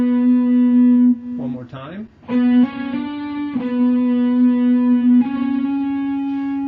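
Electric guitar plays a phrase from Pachelbel's Canon with sustained single notes and effects, loud and close; a person speaks briefly partway through.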